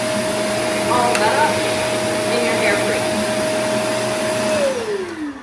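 A Catboxy portable pet grooming vacuum hums with a loud steady whine close by as it sucks up loose hair, then winds down at the end.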